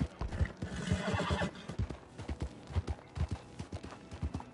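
Horse neighing and hooves galloping in the video game Red Dead Redemption 2, with rhythmic clip-clop beats and a loud whinny in the first second and a half, then steady hoofbeats continuing to the end.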